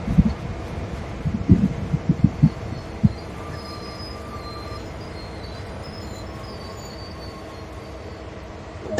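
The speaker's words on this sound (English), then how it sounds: "You can hear the distinctive whine of the SD-40 in the background." Low rumble of an SD-40 diesel locomotive during yard switching in the Train Sim World game, with a faint steady whine and scattered clanks and thumps early on.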